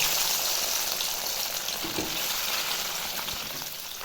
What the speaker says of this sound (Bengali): কড়াইতে তেল গরম হয়ে গেছে এখন মাছগুলো ভেজে নেব